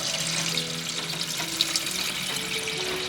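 Water running from a kitchen tap in a steady, hissing stream, with faint clinks and a background hum, close and moderately quiet.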